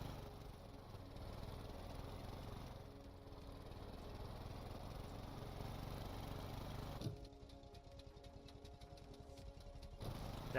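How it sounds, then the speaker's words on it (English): Steady drone of a 4-cylinder, naturally aspirated car engine in the video game Stormworks, held at an even pitch. It turns rougher and faintly stuttering near the end, with no talk over it. "Yeah, this only has a 4-cylinder engine."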